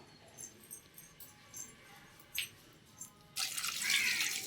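Soft drips and light clinks, then a steady stream of water pouring close by into milk cream for making homemade ghee, in the last second.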